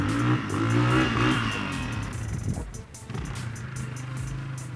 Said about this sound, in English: he's going to ride his 4-wheeler back and forth just to see how well it tracks